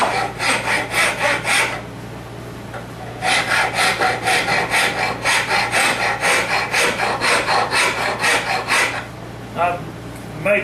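Hand saw cutting through wood in steady back-and-forth strokes: a short burst of rasping strokes, a brief pause, then a long unbroken run of rhythmic sawing close by, with no talk.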